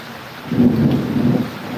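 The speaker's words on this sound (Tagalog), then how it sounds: "Ayan, kumukulog." Thunder rolls as a low, heavy rumble during a heavy rainstorm, swelling midway through over steady rain noise.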